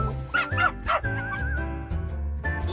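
A young eight-week-old puppy yips and whimpers close by, with a string of high, wavering cries and short barks in quick, uneven succession.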